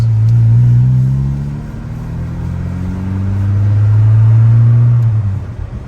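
A 1992 Saab 900i five-door with a five-speed manual drives along, its engine droning low and close inside the cabin and rising and falling through gear changes with steady road rumble.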